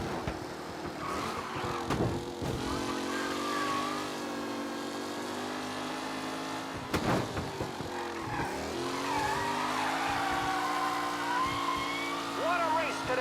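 Race cars speeding around a track in Mafia: Definitive Edition, engines droning and shifting pitch continuously with tire squeals and revving surges, a voice talking over the steady roar.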